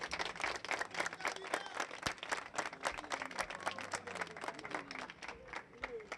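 A crowd applauds, with dense overlapping claps that keep going at an even intensity and sound somewhat distant.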